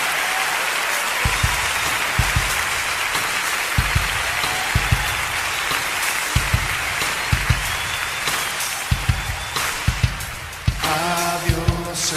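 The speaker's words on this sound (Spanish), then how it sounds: "¿Por qué no le dan un aplauso fuerte al Señor?" Church congregation at a midweek Bible study service applauding, a steady roar of clapping with regular low thumps, then a tonal musical sound entering near the end.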